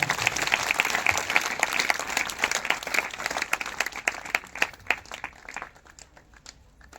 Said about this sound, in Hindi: अगर आए तो जोरदार तालियां बजाएंगे